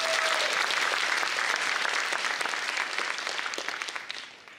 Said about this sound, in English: So can we give another huge round of applause for